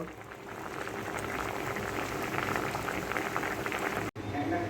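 Ridge gourds simmer in a pot of hot water, giving a steady, close bubbling and boiling with dense, continuous watery crackle throughout.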